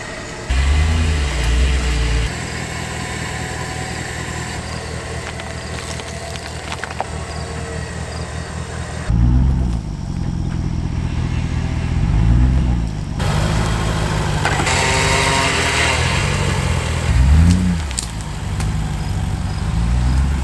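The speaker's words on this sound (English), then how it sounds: "So we got some more winching to do." A winch drags a cheap Land Rover LR4 in neutral, its steady mechanical whine running over a low idling engine, with a brief pause and then a restart of the droning pull.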